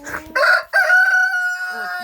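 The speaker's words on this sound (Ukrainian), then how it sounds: "півник співає. Співає півник." A rooster crows close by, a loud, drawn-out cock-a-doodle-doo that rises then holds a long sustained note, with no talking.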